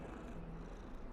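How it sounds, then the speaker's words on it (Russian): A cat purring while being petted in the game Hogwarts Legacy: a soft, steady low rumble that runs through the whole moment without any meows or voices. "Мурчит она."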